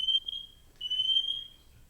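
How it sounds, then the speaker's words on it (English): Smoke-type fire alarm going off inside a house, sounding as two long, steady high-pitched electronic tones separated by a short gap, moderately loud over a quiet background. "That's a fire alarm in my house."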